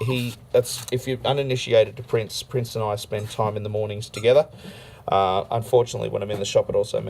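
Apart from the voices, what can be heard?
None of the usual background noises is heard.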